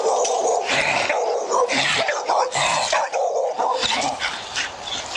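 Several dogs barking loudly and repeatedly in a backyard, overlapping yips and barks close by with no pauses, heard during a police call to the scene.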